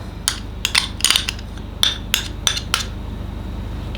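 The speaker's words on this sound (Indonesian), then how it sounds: "kita aduk lagi" Metal spoon scraping and knocking against a cooking pot while stirring ingredients with sweetened condensed milk, a series of irregular clinks and scrapes, close and moderately loud over a steady low hum.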